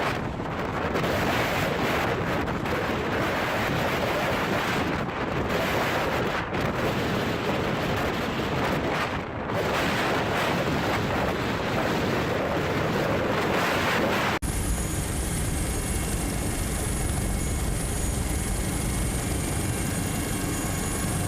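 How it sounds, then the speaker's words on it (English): Storm waves and strong wind batter a large Dutch-flagged fishing vessel of about 5,162 tons, a loud continuous roar of surf and gusts buffeting the microphone, with the sound shifting to a steadier, thinner wash near the end. "A large fishing vessel flying the flag of the Netherlands confidently passes the waves in a storm."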